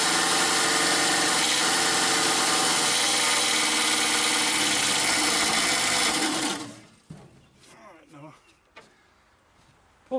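A 1961 Dodge Lancer's engine starts for the first time in 30 years and runs loud and steady for about six seconds, then cuts out abruptly, leaving scattered faint clatter and knocks.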